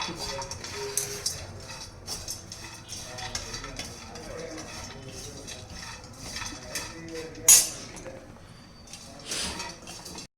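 A spoon scrapes and clinks against a pan as dry dates are roasted and stirred until reddish for a dry fruit laddu, with irregular metallic taps, a soft rustle and one sharper clatter partway through.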